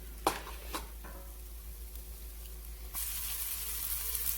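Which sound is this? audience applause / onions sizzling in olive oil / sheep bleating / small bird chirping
onions sizzling in olive oil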